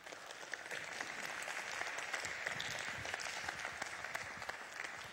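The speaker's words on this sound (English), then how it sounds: "You guys thank God for Dr. Fernandes, would you, with applause?" A congregation at a church apologetics lecture applauds to thank a visiting doctor, a steady, dense patter of many hands that sounds distant and faint for the full five seconds.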